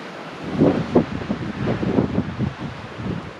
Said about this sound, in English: Beautiful but windy day out here.